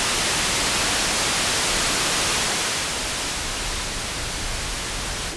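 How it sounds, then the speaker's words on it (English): Steady pink noise from an ARP 2600 synthesizer's noise generator hisses continuously, loud and even, slightly darker than white noise, then cuts off abruptly. "Here we're at pink noise, so there's a little more low frequency sound amidst the noise"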